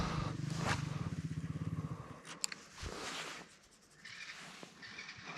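A motorcycle engine idles with a rapid pulsing putter, then cuts off; scraping and rustling follow outdoors by water, without speech.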